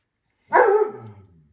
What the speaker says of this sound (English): she's probably barking at the cats